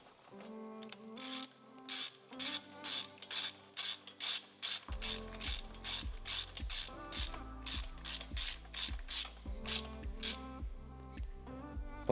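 A ratchet wrench tightening a spark plug on a Suzuki Swift 1.2 VVT, giving a close, quick run of evenly spaced metallic clicks that continues steadily with no one talking.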